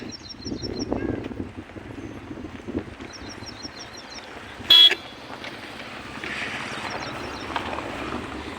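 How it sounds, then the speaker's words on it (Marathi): Passing cars hum along a road while short horn toots sound repeatedly, with one loud blast standing out; steady traffic noise fills the background. "गाड्या तर 24 तास वाहते आमच्या इकडे."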